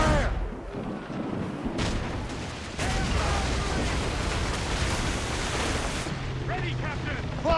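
Naval ship cannons in Assassin's Creed Rogue boom in heavy, overlapping volleys amid churning sea and battle noise, a fresh burst hitting partway through, with shouting voices mixed in.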